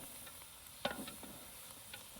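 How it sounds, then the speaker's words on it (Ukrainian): Chopped onions fry in a cauldron over an open fire for bograch, a faint steady sizzle broken by a few quick scraping stirs. "Тоді закидаємо нарублену цибулю. Її потрібно перемішуючи смажити 10-12 хвилин"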